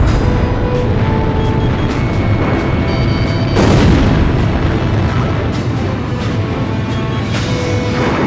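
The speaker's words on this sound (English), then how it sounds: "Missile hit." A missile blast in the Ace Combat Zero air-combat game rolls out as a loud, continuous boom and rumble, with a stronger burst near the middle and sharp crackles scattered throughout.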